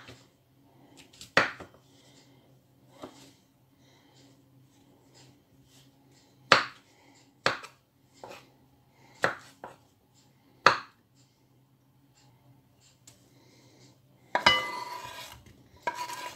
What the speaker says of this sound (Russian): Но если большой гриб, тогда буду резать вот так вот.